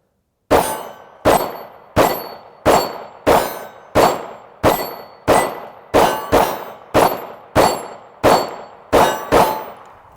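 Pistol shots from a Beretta M9 or Sig Sauer P320 ring off steel targets in a string of about fourteen sharp metallic clangs, each decaying quickly, fired at a steady quick pace with no talking.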